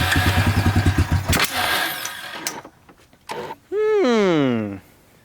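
A Honda Rancher 350 quad with a dry carburetor cranks in rapid starter bursts at close range, followed by a few separate clunks and a voice speaking near the end.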